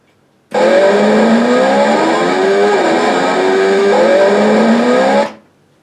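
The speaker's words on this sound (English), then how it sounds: "Now in this mode it will only give engine sound when you run the throttle." Engine sound effect from an RC model car's sound unit, a loud continuous synthetic motor roar that rises and falls in pitch as the throttle is worked, cutting in and stopping abruptly with no other sounds.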